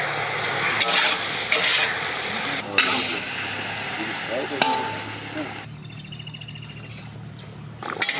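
Chicken curry with salt, turmeric and ground roasted spices stir-fried in a pan, continuous close sizzling with scraping stirs and a few clanks, quieter toward the end, a voice briefly heard.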